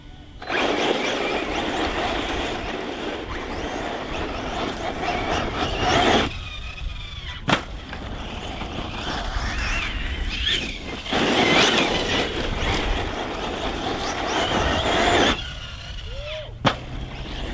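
A Losi 8ight-T RC truck on a Hobbywing Max8 system with 4S power drives hard. A loud, continuous electric motor whine and rough terrain noise come close up, with short breaks and sharp impacts from landings.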